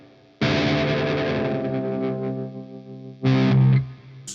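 An electric guitar tuned to drop D, played through a BOSS SD-1 overdrive pedal: one heavy distorted chord rings out and slowly fades, followed by a shorter, choked chord with a noise gate cutting it off.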